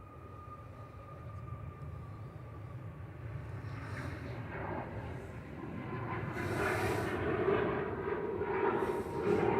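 Ryanair jet rolling down the runway at Manchester Airport, engine roar building steadily from a distant rumble to a loud rushing blast with rising whine toward the end.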